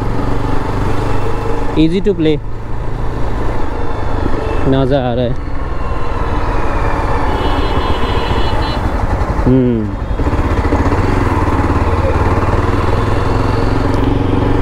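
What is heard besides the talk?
new motorcycle being ridden on a test drive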